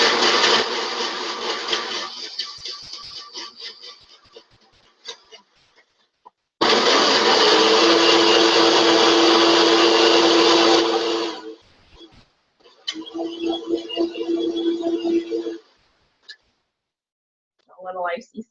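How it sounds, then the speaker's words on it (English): A kitchen blender runs loudly in bursts, whirring steadily with pitch shifts as the contents churn, then stopping and restarting briefly. "depending what kind of blender, about 30 seconds does it"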